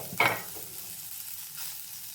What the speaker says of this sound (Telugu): ఈ కడాయిలోనే కట్ చేసి పెట్టుకున్న ఆనియన్ ముక్కలు వేసేస్తాం